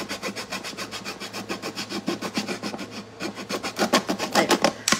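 A knife sawing back and forth through the flat side of a plastic bottle, making a steady run of scraping, rasping strokes that quicken toward the end, close up with no talking.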